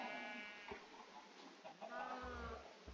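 Sheep in the video game Minecraft bleat several times, short wavering cries repeating over quiet background game sounds.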